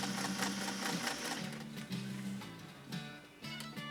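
A first-edition Singer 404 sewing machine stitches continuously with a steady whirring hum and rhythmic needle chatter, briefly slowing and restarting, loud and close with no talking.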